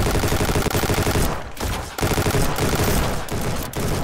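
Rapid gunfire in the Ancient Warfare 3 video game during a beach assault, dense volleys of shots that fill the whole span with brief pauses, loud and continuous with no talk.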